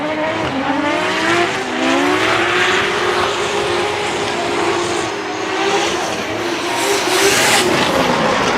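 A Toyota Supra drift car at a Formula Drift Japan round roars at high revs with rising and falling engine tones and continuous tire squeal, loud and sustained throughout, with another engine blending in.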